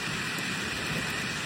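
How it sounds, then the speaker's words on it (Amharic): Heavy rain falling steadily, a dense continuous hiss with no gaps, heard alone at low level. "ኃይለኛ ዝናብ ነው ዘነበ ያለው"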